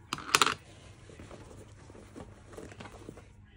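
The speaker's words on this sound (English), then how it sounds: "A multi-tool just fell on the floor." A small metal object clatters sharply onto a hard floor in one brief burst, followed by faint rustling and light handling noises.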